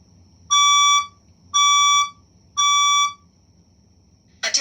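Science room fire alarm sounding in a test: three loud, evenly spaced harsh buzzing tones, each about a second long, separated by short gaps, ending with a brief burst of noise.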